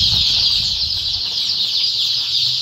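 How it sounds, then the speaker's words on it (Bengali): Tiger chicken chicks under brooding keep up a dense, steady chorus of high peeping, with some soft flapping early on. "তো এই দেখেন টাইগার মুরগির বাচ্চা এখানে আছে।"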